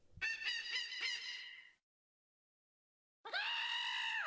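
A bird sound effect from a Mario 64 mod video game gives two loud, harsh, harmonic squawks. The first is a choppy burst of about a second and a half, and the second comes after a silent gap.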